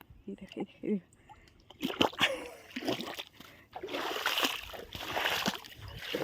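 Feet wade and splash through shallow, mossy water along a rural path, with uneven sloshing steps that grow louder and denser toward the end, and a voice talking early on.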